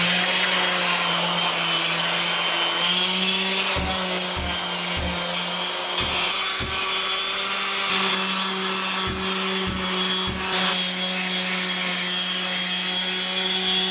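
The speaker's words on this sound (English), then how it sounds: "That's gonna come off really easily with the sander." Power sander grinding rust off cast iron, a continuous loud whirring drone with a steady motor hum, broken by several brief dips and stutters as the tool is lifted and pressed back down.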